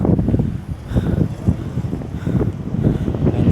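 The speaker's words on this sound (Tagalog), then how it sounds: "Grabing hangin to." Gusty wind roars loudly against the microphone during a bike ride from Tarlac toward Pangasinan, steady and surging for a few seconds with no talk.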